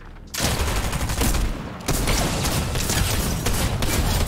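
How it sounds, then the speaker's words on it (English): Shotgun blasts in the video game Fortnite: dense, loud bursts of gunfire in quick succession with a brief gap, booming and continuous over the few seconds. "This shotgun is nuts."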